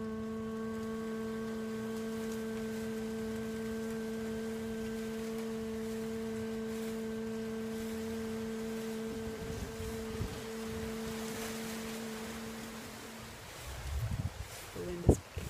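Steady sustained human humming during a guided breathing exercise, held on low pitches for most of the stretch, with wind noise and rustling rising toward the end.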